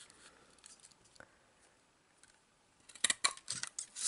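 Scissors cut paper for a trifold accordion greeting card label, a quick cluster of crisp close snips near the end after quiet handling rustles.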